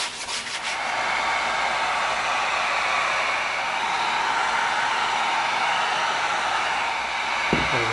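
A heat gun blows hot air onto EVA foam for a prop hammer build, a steady close whoosh of rushing air that holds evenly for several seconds without any voices.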